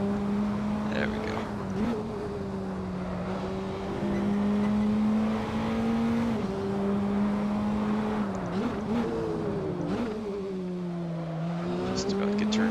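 Praga R1 race car engine in Assetto Corsa, a steady high whine that rises and dips with gear changes and cornering through a lap, with a commentator talking over it.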